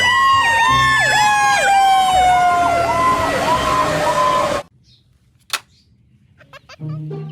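A fire truck siren wails loudly in rising and falling sweeps for several seconds, then cuts off abruptly, leaving near quiet with a few faint clicks and thumps.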